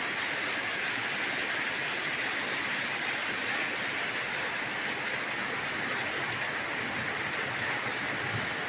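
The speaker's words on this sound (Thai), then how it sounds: "ดีใจนะครับพี่น้องฝนตกมากนะครับเนาะ" Dense, even hiss of heavy rain pouring down without pause, a steady broadband wash with no voices.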